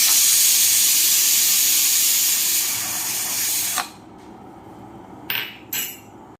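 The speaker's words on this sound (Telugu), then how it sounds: "ఇప్పుడు మనం ఒక 3 విజిల్స్ వచ్చినంత వరకు మీడియం ఫ్లేమ్లో బాయిల్ చేసుకుందాం" A pressure cooker on a medium flame blasts a loud, continuous jet of hissing steam for several seconds, cuts off abruptly, then lets out two short, sharp hissing spurts.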